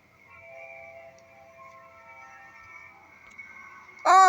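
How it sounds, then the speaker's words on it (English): An Amtrak 50th anniversary heritage unit passing at speed, heard as a steady sustained tone, likely its horn, held at moderate distance, then a sudden loud rush of the train going by at close range. "It's Amtrak. Sounds like an Amtrak."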